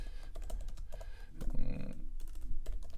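Close, crisp typing on a computer keyboard, a quick irregular burst of key clicks that carries on through the whole stretch without any voice.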